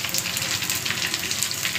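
Mustard seeds and cumin tempering in hot oil for a garlic pickle, a dense continuous crackling sizzle, close and steady throughout the short moment.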